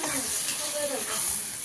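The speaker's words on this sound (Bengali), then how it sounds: "এবার ভালো করে একটু নাড়বো, যতক্ষণ না একটু শুকনো শুকনো হয়ে আসছে ততক্ষণ নাড়বো" Greens (saag) sizzle and fry in a pan while being stirred, a steady close hiss with soft scraping throughout.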